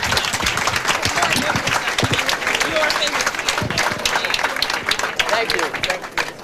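An audience at a 1998 talk with William F. Buckley, Jr. claps steadily and densely throughout, loud and close, with a voice speaking over the applause.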